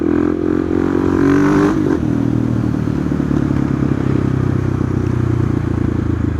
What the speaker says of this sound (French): on va juste faire un petit tour tranquille, aller faire quelques wheelings en 690